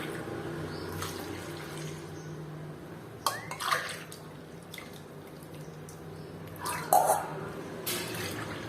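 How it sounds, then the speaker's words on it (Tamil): Water poured from a tumbler into moong dal for Ashoka halwa lands in a few soft, short splashing pours, faint and close, in an otherwise quiet kitchen. "மூணு டம்ளர் தண்ணி சேர்த்துருக்குறேன்"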